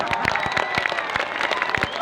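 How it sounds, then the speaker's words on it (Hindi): An audience at a speech gives a round of applause, many hands clapping in a dense, brisk patter that stays steady and fairly loud throughout. "एक जोरदार तालियां"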